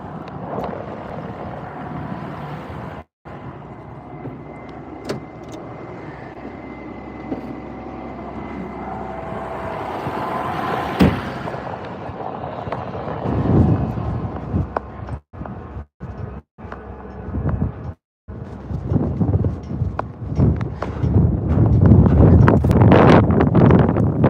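Strong wind buffets a microphone outdoors on a farm during bale feeding, a steady roar with heavy gusty rumbles and brief dropouts that builds to loud, sustained blasts near the end.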